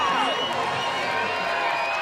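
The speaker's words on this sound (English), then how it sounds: "This crowd coming to life." A crowd at a Legends Football League game in Los Angeles cheers and whoops on third and goal, a dense, sustained roar with high shrill voices, while a commentator talks over it.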